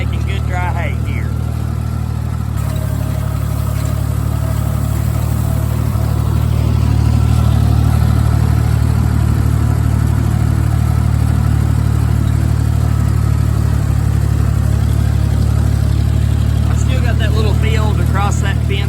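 Tractor engine droning steadily while mowing hay in a field, a loud continuous low rumble that swells slightly partway through, with a person talking over it at times.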